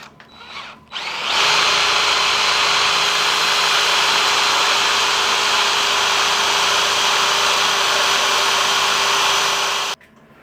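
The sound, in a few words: drilling holes with a drill held square in a jig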